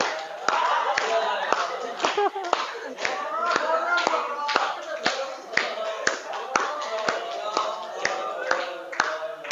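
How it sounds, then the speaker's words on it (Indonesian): A group of people in a classroom claps hands in an uneven, loosely rhythmic run of sharp slaps, loud and close, with voices chattering between the claps. "Oke, tepuk tangan."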